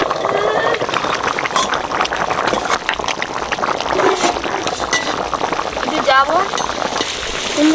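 Luchi puffing in hot oil in a home kitchen, with a steady loud sizzle and bubbling throughout and occasional stirring sounds while a person talks over it.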